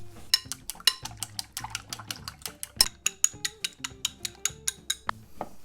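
Eggs beaten with salt and pepper in a bowl, sharp rapid clinks of a utensil against the bowl in a fast steady rhythm, close and clear, with no voices.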